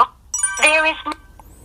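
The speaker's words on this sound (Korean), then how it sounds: "이렇게 벨소리가 한 번 울리고요" A single phone ringback tone sounds once on a call, a loud, steady electronic ring lasting about half a second before fading out.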